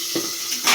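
Fish, a local masha variety, frying crisp in hot oil, heard as a short burst of steady bright sizzle with a few soft pan knocks, fairly close.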